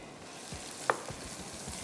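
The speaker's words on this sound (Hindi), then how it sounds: "अब मैंने तेल में डाल दिए हैं चॉप्ड अनियंस" Chopped onions frying in hot oil in a home kitchen, a steady close sizzle with faint stirring scrapes and one brief sharp clink.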